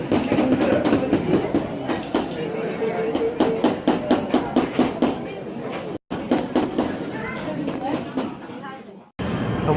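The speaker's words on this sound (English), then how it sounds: "I'm back in an interchangeable Chinese train station." Train at a Chinese railway station, a steady rumbling roll punctuated by rapid rhythmic clacks and knocks over the tracks, with voices talking throughout and two brief dropouts.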